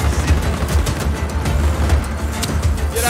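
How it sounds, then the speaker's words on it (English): Dense, continuous automatic gunfire in the Just Cause 4 video game, loud and sustained rapid bursts with no talking over it. "Opening fire!"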